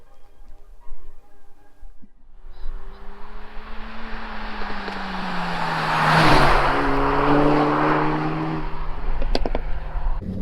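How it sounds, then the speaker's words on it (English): A manual Renault Megane RS pulls away and accelerates hard, its engine note climbing loudly over several seconds. It swells to a peak around the middle, then settles into a strong, sustained drone. "I just thought I'd go for a little drive in the manual and see what it feels like in comparison to the EDC"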